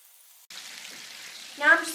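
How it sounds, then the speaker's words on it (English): Chicken nuggets sizzling in a pan, a soft steady frying hiss that begins abruptly and swells briefly louder near the end. "put my second batch, I guess, on and cook them in the exact same way"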